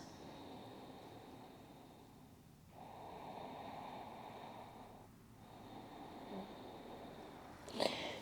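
Slow, deep breaths during a yoga child's pose, with long soft inhales and exhales rising and falling over several seconds, faint and close, with no talking.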